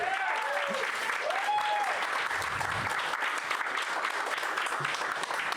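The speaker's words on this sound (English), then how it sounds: "Give them a round of applause." A crowd at a live comedy show applauds in a steady, fairly quiet wash of clapping lasting several seconds, with a few cheers and whoops rising over it.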